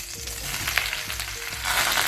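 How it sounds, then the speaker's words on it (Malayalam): Brinjal sautéing in coconut oil with curry leaves for a Kerala-style curry gives a continuous, close frying sizzle with stirring scrapes, swelling louder near the end. "ആദ്യം തന്നെ ബ്രിഞ്ചോൾ വഴറ്റിയെടുക്കുകയാണ് അത് നമ്മുടെ വഴുതിനങ്ങ വഴുതിനങ്ങ ഒന്ന് വഴറ്റിയെടുക്കണം"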